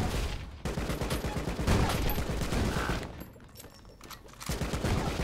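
Rapid AK rifle fire from the video game Rocketbirds 2 crackles in dense, continuous bursts with one short pause midway, loud and alone without speech.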